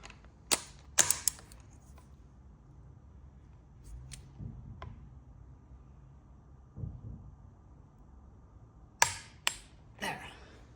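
A torque wrench tightening the oil filter on a Ducati Monster SP to 38 Nm, sharp mechanical clicks in small clusters near the start and again near the end, close and crisp amid quiet handling noises.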